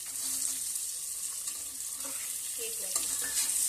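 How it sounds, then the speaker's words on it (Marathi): Carrots, capsicum and peas sizzle softly as they sauté in a pan for veg pulao, a faint, steady hiss with occasional light stirring clicks. "या भाज्या छान परतून घ्यायच्या"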